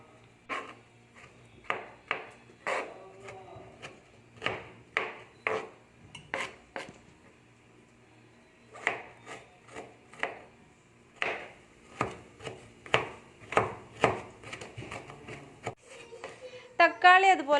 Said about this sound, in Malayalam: കുറച്ച് പച്ചമുളക്, വെളുത്തുള്ളി, ഇഞ്ചിയൊക്കെ നമ്മൾ കത്തി കൊണ്ട് ചെറുതാക്കി എടുക്കുക